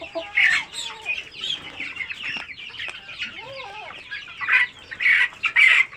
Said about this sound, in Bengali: আমার ওইদিকে আছে যেহেতু আমার মুরগি, এইদিকে আছে মোরগগুলা